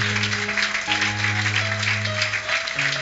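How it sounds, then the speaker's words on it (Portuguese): A church congregation applauds during a worship service, a steady broadband patter of hands held under sustained keyboard or organ chords for the whole stretch. "Aplauda o Senhor Jesus"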